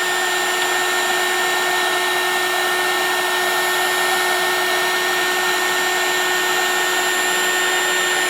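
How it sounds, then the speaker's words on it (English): A heat tool blows a steady, loud, close whir with a constant high whine while melting embossing powder on a papercraft card, running unbroken throughout with no talk. "So just melting that embossing powder down like so."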